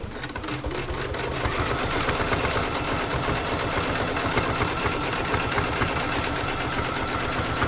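An embroidery machine stitches a quilt block held in a hoop, its needle hammering in a fast, even mechanical rhythm with a steady motor hum, loud and continuous from start to finish.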